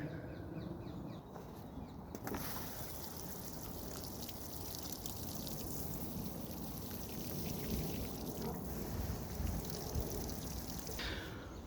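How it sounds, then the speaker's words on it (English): Squash plants in a garden get a good watering: a steady, fairly soft splashing pour of water that runs continuously for several seconds without any talking. "all 3 of them are going to get this: a good watering"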